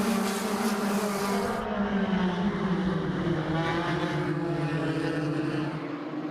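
USAC Eastern midget race cars at Ace Speedway accelerate back to racing speed after a green-flag restart. Several engines whine and drone together in a loud, continuous pack, pitches rising and shifting as the cars pass.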